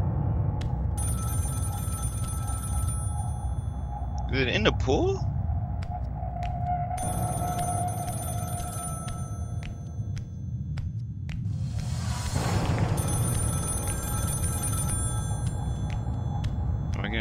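An in-game telephone rings repeatedly in Scream: The Game, sounding steadily under a player's talk amid a busy background of game ambience and music.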